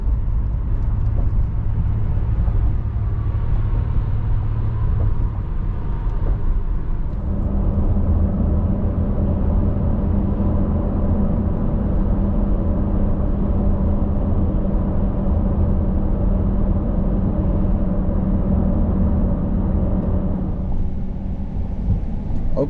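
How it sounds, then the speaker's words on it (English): Steady road traffic on the drive toward Miami Beach, a continuous low rumble of engines and tires heard from inside a moving vehicle, with a slight shift in tone partway through and no speech. "Yes, it's traffic."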